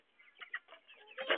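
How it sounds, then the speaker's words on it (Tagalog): Backyard chickens give a brief, soft series of clucks, close by and quiet, ending in a slightly louder burst of clucking. "Tara, lapitan natin yung mga manok."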